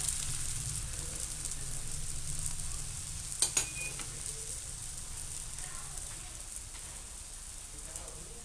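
A vegetable paratha fries on a pan over moderate heat, a steady soft sizzle with a couple of brief sharp clicks from handling partway through.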